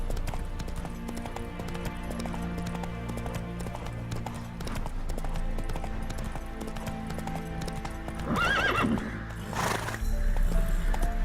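Roach, a horse in The Witcher 3, clip-clops along in a steady, continuous rhythm over game ambience and music, with a brief whinny-like sound near the end.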